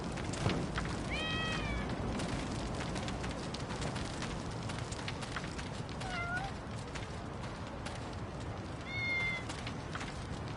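Cats meowing in the video game Lost Judgment, three separate fairly faint meows spaced several seconds apart over a steady background of rain-like ambient noise, with no speech.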